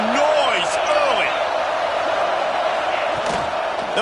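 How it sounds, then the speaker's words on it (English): Dense, steady roar of a football stadium crowd at an SEC game fills the whole stretch, with scattered shouts and whistles rising out of the wash of noise. "This crowd bringing the energy and noise early."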